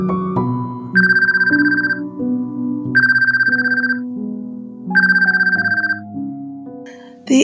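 A mobile phone ringtone plays loudly at a dining table, a bright synthesized melody with a repeating trilling ring phrase sounding three times over a sustained tune.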